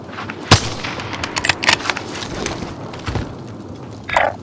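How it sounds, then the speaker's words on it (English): Gunfire in Warzone: a sharp close shot followed by a scatter of quicker distant bursts and clatter, ending with a brief louder burst. "Receiving hostile fire."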